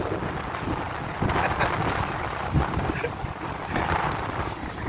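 Sea and wind at a beach in Infanta, Quezon: a constant broadband wash of surf with gusty wind buffeting the microphone, steady and fairly loud with no voices.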